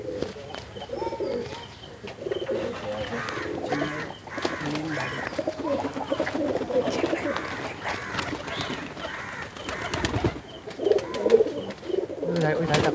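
Chennai breed pigeons kept in pairs coo and murmur in a loft, with chirps and rustling throughout and a person talking now and then nearby.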